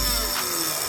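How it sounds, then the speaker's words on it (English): A small Dremel rotary tool cutting fireplace tile, a close high-pitched grinding whine that holds steady then cuts off abruptly. "you can use a little Dremel tool like"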